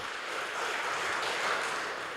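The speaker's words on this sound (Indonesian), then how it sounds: "Tepuk tangan dong buat Tuhan saudara." A church congregation applauds, a dense, even wash of clapping that holds steady throughout with no voices over it.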